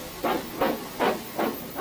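Steam hisses from an engine resting in a train shed, coming in five regular bursts about every 0.4 seconds. The hisses are fairly close and clear, with no voices.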